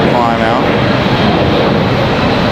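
A C-175 aircraft taking off with a steep climb at Charlotte Douglas International Airport makes a steady, loud, broadband engine roar that fills the whole stretch without letting up.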